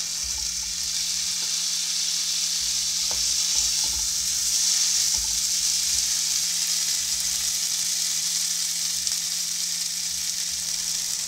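Tomatoes cooking in a pan for borar jhol, a steady close sizzle with occasional stirring clinks and scrapes against a constant low hum.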